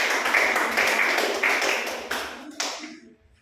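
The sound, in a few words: clapping after a class presentation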